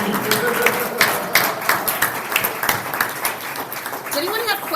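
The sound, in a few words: audience applause and cheering at Rotary meeting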